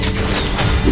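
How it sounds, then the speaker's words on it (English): An enemy turret is destroyed in AutoChess MOBA, a short, loud, rumbling boom with a crashing texture that fills the moment. "The enemy's turret has been destroyed."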